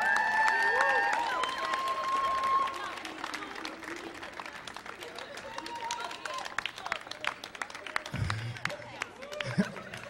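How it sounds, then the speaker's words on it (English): A live audience at the Millennium Stage applauds the DJs after a hip-hop performance, with clapping and some cheering and crowd chatter mixed in, loud at first and then easing back as voices and scattered claps carry on. "can we give another round of applause to the DJs?"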